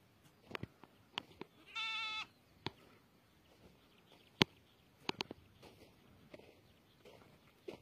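A single sheep bleats once, brief and fairly distant, at a rural livestock pasture. Scattered clicks and light footsteps fill the quiet around it, with no talk.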